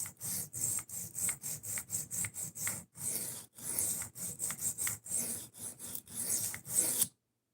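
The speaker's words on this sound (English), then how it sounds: "Let me get a huge burr on this thing. It is. It's an Atoma 140." A knife blade is sharpened on an Atoma 140 diamond plate, a steady series of gritty rasping strokes in a quick back-and-forth rhythm, close and clear with no talking, ending abruptly.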